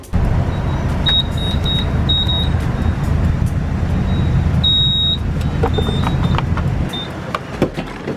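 A nitrous-equipped minivan on a test drive, its engine and road noise a steady, loud rumble, with short high electronic beeps and a few clicks over the top.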